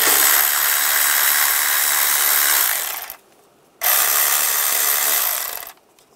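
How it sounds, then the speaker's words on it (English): A 10 millimeter socket wrench loosening worm-drive hose clamps on the intake of a 1996-2002 Toyota 4Runner, giving two long bursts of rapid ratcheting clicks, each about three seconds, separated by a short pause. "Using a 10 millimeter socket, we're gonna loosen up the worm clamps."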